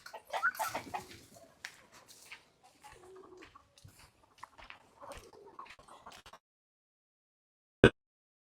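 Chickens peck around a yard, clucking and cooing close by in scattered, overlapping calls, then everything goes quiet except one sharp click near the end.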